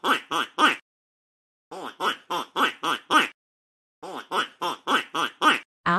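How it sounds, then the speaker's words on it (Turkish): A duck quacks in three quick bursts of rapid, nasal calls, three then six then six, loud and close with short silences between the bursts. "Bu bir ördek. Ördekler vak vak der."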